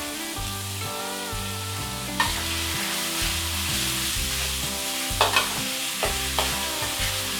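Pork and spring onions stir-fried in a pan, a steady frying hiss with repeated scraping strokes of the spatula and a few sharper clinks, close and alone with no talk.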